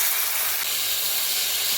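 Chopped tomato dropped into hot oil, tempered with dried chilli, cardamom, cinnamon, cloves and bay leaf, setting off a loud, dense, continuous sizzle that fills the whole moment.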